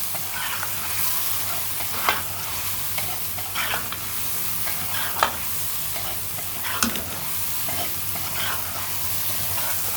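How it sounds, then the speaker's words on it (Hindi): Vegetable pulao with aloo and matar being stirred as spices are mixed in, giving a continuous soft sizzle with occasional scrapes and clinks of a spoon against the pot, close by and without talking. "दोनों चीज़ें इन दोनों को अच्छी तरह से मिक्स कर लेंगे।"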